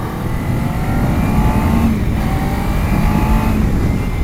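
Kawasaki Ninja 300 motorcycle engine accelerating on a road ride, a loud, steady close-up engine drone with rising pitch and constant wind rush, no talk over it.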